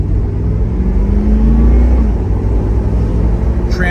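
A 1989 Chevrolet Camaro IROC with a 5.7 engine cruises down the road, a steady low engine hum and road rumble heard from inside at an even level.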